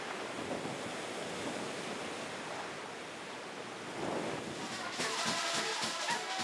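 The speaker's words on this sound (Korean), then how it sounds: "남태평양의 거센 파도 소리" Heavy South Pacific surf roars steadily on an atoll shore in Tuvalu, broad washing noise with a louder wave surge building near the end, no voices.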